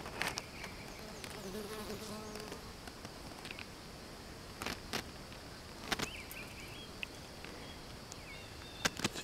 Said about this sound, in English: There's a bee right there working it.